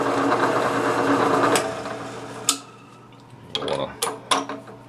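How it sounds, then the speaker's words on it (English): Sandpaper smooths a turned diameter on a small hand-engraving hand-piece spinning in a chuck. A loud, steady whirring hiss gives way to quieter clinks and handling knocks once the spinning stops. "Finish up the diameter with sandpaper."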